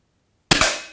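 A single sharp, loud shot from a Sport Quantum SQ10 air-rifle-style shooting trainer cracks out of silence, with a quick second snap right after and a short decaying tail.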